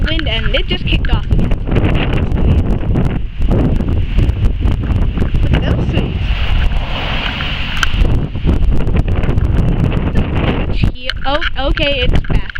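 Strong storm wind buffets the microphone in a steady, loud roar with rough gusts throughout, and a voice speaks briefly near the end.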